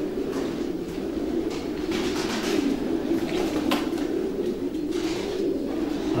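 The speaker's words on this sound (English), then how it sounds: "That's a good pigeon there." Racing pigeons in a stud loft cooing, a steady dense murmur of overlapping calls close by throughout, with no voices.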